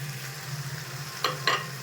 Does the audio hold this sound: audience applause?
no